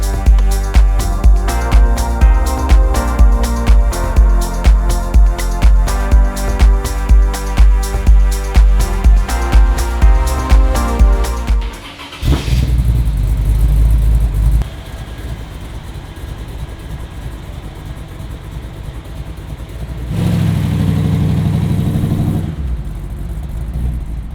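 A Chevelle engine with a MagnaFlow exhaust system, loud with a deep, throaty note, revving in a steady pulsing rhythm, then dropping to a rumbling idle before a short rev near the end.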